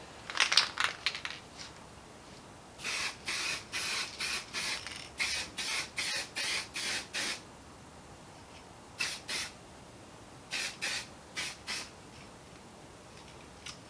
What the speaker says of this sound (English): the spray nozzle on the Glue Devil can is actually quite nice. It's got a very even spray pattern